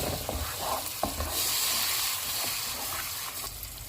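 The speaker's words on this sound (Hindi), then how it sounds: "अब मसाले को हम अच्छी तरह भून लेंगे" Turmeric, red chilli powder and salt fry in oil for a fish curry, a loud continuous sizzle close by with repeated stirring scrapes through it.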